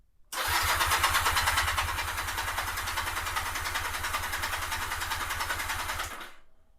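A 2009 Honda Rebel 250 motorcycle engine cranks steadily at wide open throttle during a compression test. The loud, close whirring runs continuously for about six seconds with a rapid low pulsing rhythm, then cuts off. No one speaks.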